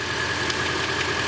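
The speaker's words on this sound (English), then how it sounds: "here's the engine idling. It's stumbling" A 2013 Hyundai Elantra engine idles with a stumbling misfire on cylinders one and four, a close, steady mechanical hum with uneven pulses and no talk.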